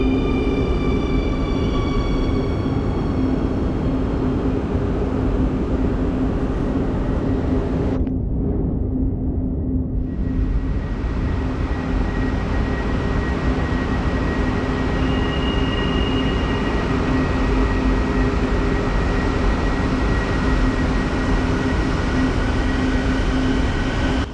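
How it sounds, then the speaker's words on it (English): A CAF MQ-117 metro train arrives at a station in Ecuador, a loud continuous rumble with steady electric motor whine and a high tonal hum, the noise holding level throughout. "Here comes a train. It is an MQ-117, which was built by CAF in Spain"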